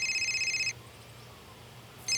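A landline telephone rings with a bright electronic trill, one ring lasting under a second, then silence before the next ring begins, loud and close with no talk over it.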